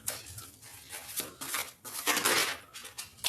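A tarot deck being cut and shuffled by hand, soft papery riffles and slides in short close bursts, quiet with no voice.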